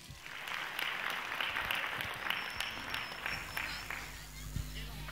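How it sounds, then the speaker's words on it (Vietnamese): An audience applauds warmly at a Vietnamese cải lương theatre performance about Hàn Mặc Tử, a dense, sustained wash of clapping that fades near the end while voices speak underneath. "Xin mời quý vị quan khách cho một tràng vỗ tay thật nồng nhiệt."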